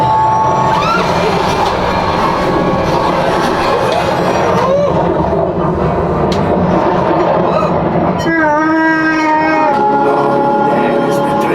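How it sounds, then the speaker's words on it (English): Theme-park ride train at Hollywood Studios, a loud, continuous rumble with squealing tonal whines in a busy, noisy mix, with voices talking over it. "There's the train."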